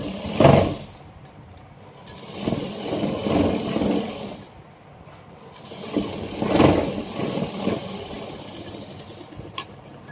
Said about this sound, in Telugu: సో ఇట్లా ఎడ్జ్లో స్టిచ్చింగ్ చేయాలి